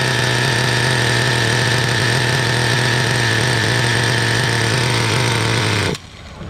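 A Traxxas Revo John Deere Edition RC truck's small nitro engine runs loud and steady with a buzzing, rattling drone, then cuts out abruptly near the end, leaving quiet.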